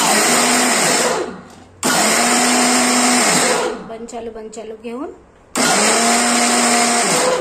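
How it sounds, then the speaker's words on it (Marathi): A mixer grinder grinding peanuts whirs loudly in long bursts, switched off twice for short pauses, while a voice speaks briefly during a gap. "शेंगदाणे आपण मिक्सरला वाटून घेऊ, 2 मिनिटात होऊन जाते।"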